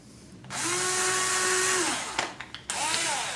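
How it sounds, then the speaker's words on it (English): A power drill bores a pilot hole with a 1/16 inch bit into a frame: a steady high motor whine for about a second and a half, winding down, then brief bursts and another spin-up, loud and close with no talk. "16th inch bit. We're going to drill a pilot hole."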